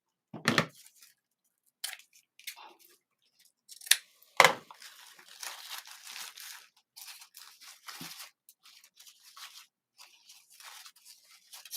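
Scissors pulled along ribbon to curl it for a bow on a jute cross floral wreath, a few sharp scraping zips and snips with softer rustling between them, close and fairly quiet.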